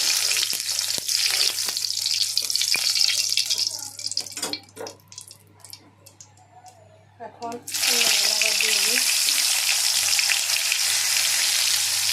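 Pointed gourd (potol) slices fry in a pan with a loud, steady sizzle. The sizzle drops away for a few seconds while someone stirs and speaks briefly, then returns at full strength.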